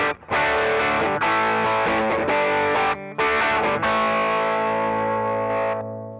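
Electric guitar played through a NUX MG30 modelling a Fender Tweedy amp with three knobs, ringing distorted chords and sustained notes, loud and close with brief gaps, finishing on a long decaying chord.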